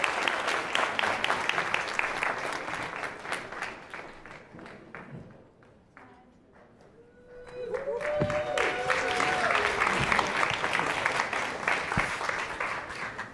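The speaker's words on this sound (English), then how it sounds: "Please give them a round of applause." Sustained applause from a large audience at a games festival talk in Berlin, a dense wash of clapping that dips briefly then swells again, with faint voices and tones mixed in.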